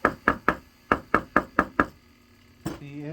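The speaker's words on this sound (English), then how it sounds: "we're just using a rubber mallet" A rubber mallet taps a metal toe ring in a quick run of eight crisp, evenly spaced knocks, then pauses before one more tap with a short ringing tone after it.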